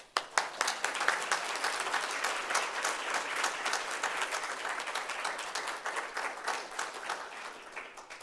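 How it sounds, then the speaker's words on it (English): Audience applause at a student senate meeting, sustained clapping from a room of people with a few sharp individual claps at the start, steady and moderately close throughout. "Round of applause."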